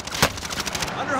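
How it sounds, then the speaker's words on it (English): Gunfire in Call of Duty: Modern Warfare: a single sharp loud shot near the start followed by a rattling burst of quieter rapid shots, short and close. "Under hostile fire."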